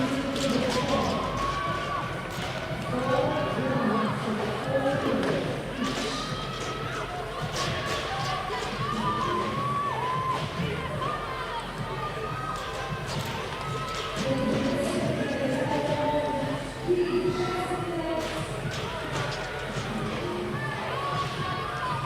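A big crowd at the Austrian Throwdown 2024 finals roars steadily with cheering and thumping, a dense, continuous din with voices mixed through it for the whole stretch.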